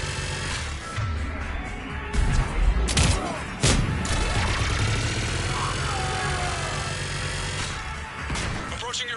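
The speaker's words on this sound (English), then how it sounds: "Just following the gunfire." Bursts of gunfire and crashing impacts in a Mass Effect 3 Legendary Edition firefight, loud sharp volleys around two to four seconds in, with character dialogue and game effects running throughout.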